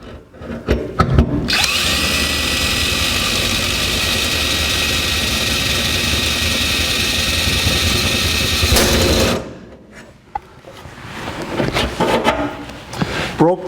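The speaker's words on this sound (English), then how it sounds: "Now we need to drill a 7/8 hole." A drill bores a 7/8 hole in metal on a 1949 Chevrolet gasser, with a few clicks and handling sounds, then a loud, steady high-pitched whine running for about seven seconds before cutting off, followed by scattered tool clatter.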